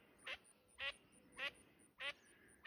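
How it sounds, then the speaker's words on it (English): A duck quacks along the Pacific Crest Trail during a thru-hike: four short, rasping quacks at a steady rhythm about half a second apart, fairly faint over quiet outdoor background. "That duck wants me to fall in."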